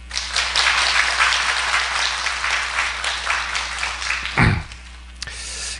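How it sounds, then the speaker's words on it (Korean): Church congregation applauding a youth worship band at a Sunday evening service in Ulsan, a steady wash of clapping that swells and fades, then a single louder thump near the end before a brief pause. "박수 한번 쳐주세요."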